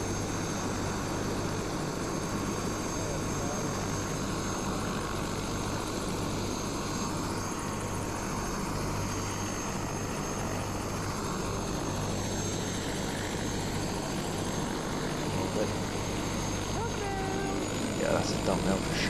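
Helicopter engine and rotor during pre-flight run-up checks on a load master helicopter, a loud steady drone with a constant low throb filling the whole stretch, with a voice talking over it.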